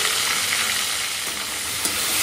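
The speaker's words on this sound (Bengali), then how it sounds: "কাঁকড়াটা নুন হলুদ মেখে নিয়ে আসছি, এবারে ভাজছি।" Crab pieces coated in salt and turmeric sizzle steadily in hot oil, a loud, continuous frying hiss with no talking.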